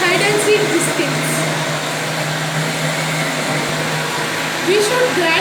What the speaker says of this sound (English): Let's keep it in the mixie again and lock it. Then start it grinding again.